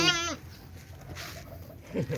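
A single goat bleats sharply and close at the start, just after giving birth, followed by rustling and a brief murmur of voices.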